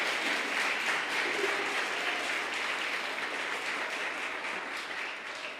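A church congregation applauds, many hands clapping in a dense, even wash that holds steady and fades slightly toward the end.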